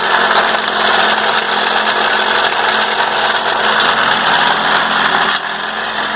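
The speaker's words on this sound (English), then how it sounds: "It's making this awful clatter from the timing cover area." A 2003 Ford Focus 2-liter engine idles with a steady mechanical clatter from the timing cover area, a close, continuous rattling drone that holds evenly and drops slightly near the end.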